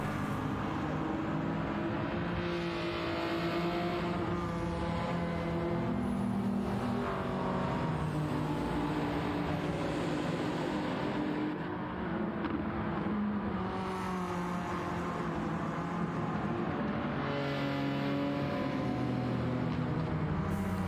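Car engine and aftermarket exhaust in the Gran Turismo 7 racing game on PS5, a continuous droning engine note that rises and falls with revs throughout, steady and loud with no talk.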